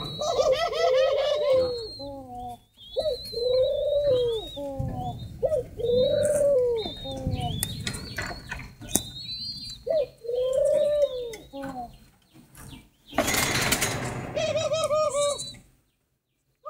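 Spotted doves coo repeatedly and a chick gives high, insistent begging chirps while the mother feeds it, all close by. The calls come in bursts separated by short pauses, and a brief loud fluttering flap of wings is heard near the end.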